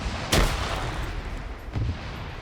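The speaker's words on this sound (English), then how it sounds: "Grenades are falling on top of me in the event." Grenade blasts in an online video game match, two dull booms about a second and a half apart over steady battlefield rumble, the first sharper and louder.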